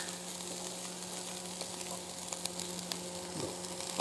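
Chicken and fish cooking on a barbecue grill in Karkala, a steady close sizzle and hiss that stays even the whole time, with a faint hum underneath.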